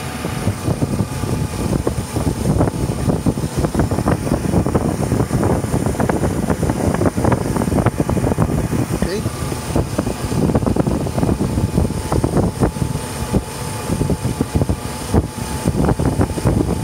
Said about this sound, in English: Let's give it a little snap throttle.